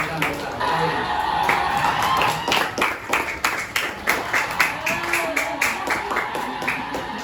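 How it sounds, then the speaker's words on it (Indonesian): A classroom of students applauds: scattered claps and murmuring build into rhythmic, evenly spaced group clapping that continues to the end, with some voices mixed in. "Kalau sudah berarti kita beri tepuk tangan."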